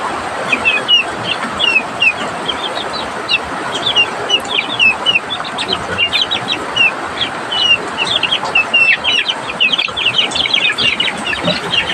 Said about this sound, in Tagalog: Featuring sa bagong pisang sisiw.